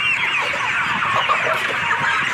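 Broiler chickens on a poultry farm cluck and chatter continuously as a dense flock, a busy close-up murmur of many birds with no talk.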